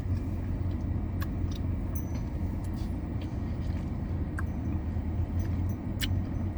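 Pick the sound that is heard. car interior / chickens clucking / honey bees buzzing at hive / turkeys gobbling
car interior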